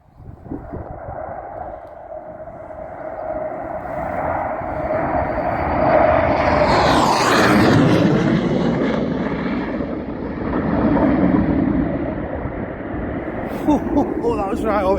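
A 1950s Hawker Hunter jet roars past in a loud low pass and then climbs away, its engine rising to a peak with a sweeping pitch shift before fading into a distant rumble, with a person talking beneath it.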